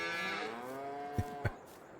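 Cattle moo in a farm video game, one drawn-out, fairly close low call with a couple of soft thumps near the end and no talk.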